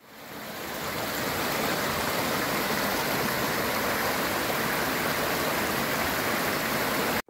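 Forest stream rapids rush in a dense, loud and unbroken roar close by on a hike around Herajärvi at Koli, with no voices, until it cuts off abruptly at the end.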